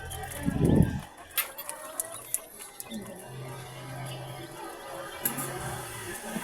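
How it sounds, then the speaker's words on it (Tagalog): A loud burst of chicken clucking up close, followed by quieter scattered clucks and low ambient hum. "Binisita natin yung mga manok natin."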